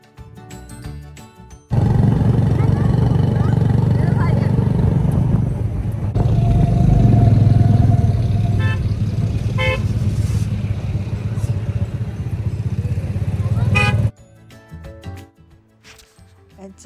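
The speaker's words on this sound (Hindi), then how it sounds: "हम लोगों ने सोचा कि हम लोग जाएंगे आज घर पे रिक्शे में" Riding in a chand gaadi (chingchi) motor rickshaw, a loud, close engine roar runs for about twelve seconds with a few brief horn-like tones. Quieter street noise is heard before and after.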